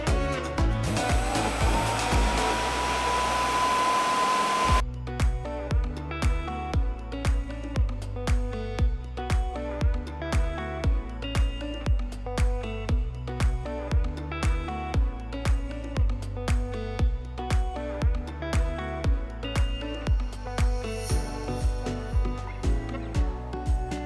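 An Avid CNC router with an 8.7 hp spindle cuts a curly wood slab: after a steady whining spin-up, a loud rhythmic pattern of repeated cutting passes pulses regularly, close and alone with no talking.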